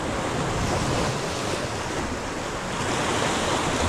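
Ocean surf roars continuously on a rocky fishing shore, waves surging and washing in with steady wind noise buffeting the microphone.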